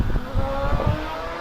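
A Force TA race car sets off on a hillclimb run, its engine a loud, close, throaty roar with rapid revving pulses that quickly steady into a sustained drone.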